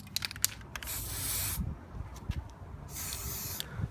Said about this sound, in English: here I am spray painting the pieces, and the spray paint I'm using is called Citadel Black